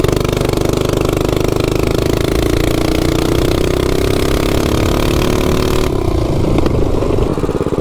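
Predator 224 mini bike engine with a 265 cam, stock rod and stock flywheel, revving hard as it accelerates from 0 to 30, a loud, close, raspy continuous roar that climbs steadily in pitch before easing off near the end.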